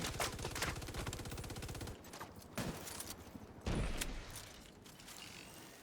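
Rapid automatic gunfire bursts in an online shooter game, close and loud, followed by a few single shots and mechanical clanks, with no talking.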